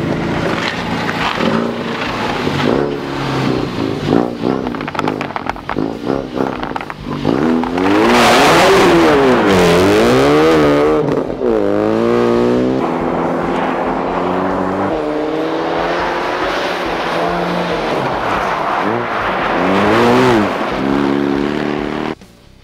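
A Ford Focus RS rally car drives hard, its engine revving loud and close with rising and falling sweeps in pitch as it accelerates and shifts, sustained throughout with no talk.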